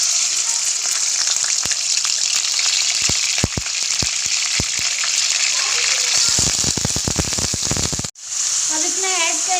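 Half a kilogram of chicken sizzles and fries in a pan of spiced oil, a loud, continuous crackle with clatters of stirring scattered throughout, then a brief drop before the sizzle resumes.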